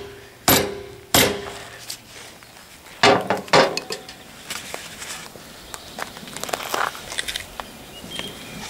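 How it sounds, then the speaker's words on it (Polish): A hammer taps an axe head onto its wooden handle, seating a self-splitting axe: a few sharp knocks, then a cluster of firmer blows and lighter scattered taps close by, with a faint background hum and no talk. "Z wyczuciem teraz pobijam młotkiem, tak żeby tego trzonka nie rozłupać."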